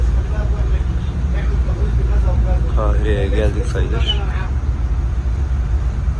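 A double-decker bus on the road to Giza, heard from the upper deck, gives a constant low engine and road rumble under a person talking.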